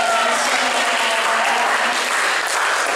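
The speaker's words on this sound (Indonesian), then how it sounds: "Tepuk tangan dong, Mas Profi Andrea." A seminar audience breaks into loud, dense applause for a participant, a continuous wash of many clapping hands close by with no pause.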